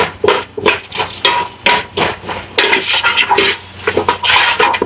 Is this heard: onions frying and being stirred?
yes